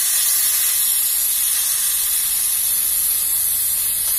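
A steady, loud hiss of steam escapes from a pressure cooker of boiling peas, continuous and unbroken with no pauses.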